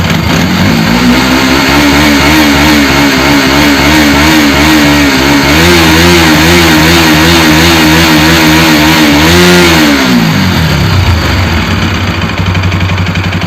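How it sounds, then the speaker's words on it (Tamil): Bajaj NS 200 motorcycle engine, freshly refitted, revving steadily and smoothly at close range, with the pitch rising and holding through several throttle blips before dropping back to idle near the end; no voices. "ரெண்டு இன்ஜின் சவுண்டு ஸ்மூத்தாக இருக்குது. ரைஸ் பண்ணும்போது நம்மகிட்ட இன்ஜின் பேசுகிற மாதிரி இருக்குது."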